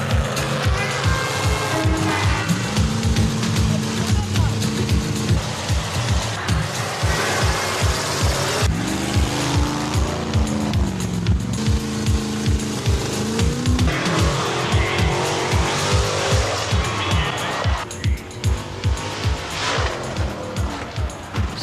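Monster trucks roar through a live monster truck event, engines revving hard in a continuous loud drone with pulsing throttle bursts and occasional tire squeals, heard up close for a long stretch.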